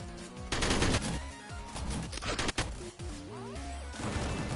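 Rapid machine gun fire from the video game Gungrave G.O.R.E, loud dense bursts of shots mixed with crashing impacts and game music, with no voices.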